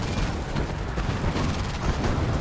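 Shockwave artillery fires in a Command and Conquer: Kane's Wrath battle, a dense run of overlapping booms and cracking blasts. The barrage rolls on steadily for a couple of seconds amid general battlefield noise.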